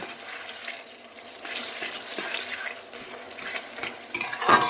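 A tomato-onion spice paste sizzles in a pan while being stirred, with irregular scraping strokes of a utensil against the metal and a light frying hiss, ending in a louder burst of sizzle.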